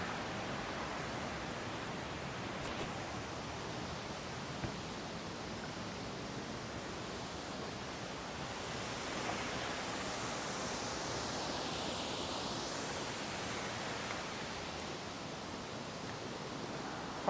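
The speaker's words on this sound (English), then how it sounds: "I want to be kind of by those rapids, looking back towards the waterfall maybe" Rushing water roars steadily and continuously, a broad hiss of rapids and falling water with no pauses.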